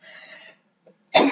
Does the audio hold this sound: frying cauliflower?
no